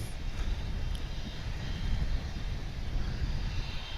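An airliner arriving from Maui at DFW International Airport, heard as a steady, broad jet roar with low rumble and some wind buffeting on the microphone, continuous throughout with no talk.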